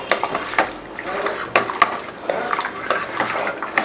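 Chicken pieces mixed by hand with salt, chili powder and oil in a bowl: close, steady wet squishing and slapping in quick irregular strokes, with occasional clinks.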